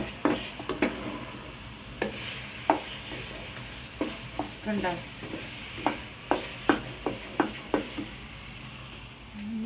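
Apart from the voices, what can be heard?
stirring jackfruit halva sizzling in a pan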